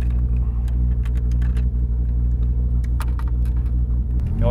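A car engine idles after starting, a steady close low rumble with light ticking and clicks on top and a brief rising whine at the very end.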